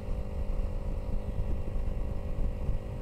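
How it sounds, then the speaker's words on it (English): A Kawasaki Ninja 250R motorcycle engine idles on its own in cold winter weather without the choke, giving a steady buzzing drone with a faint constant tone, mixed with rough wind-like noise. "Because I'm riding with no choke on, it idles just fine all by itself"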